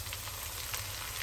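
Ginger garlic paste dropped into onions frying in oil, giving a dense, even sizzle that fills the short moment with no voices.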